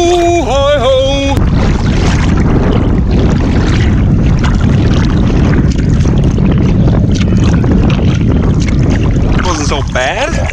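A canoe is paddled through wilderness water in gusty wind, with continuous loud wind buffeting and water noise; a voice sings briefly at the start.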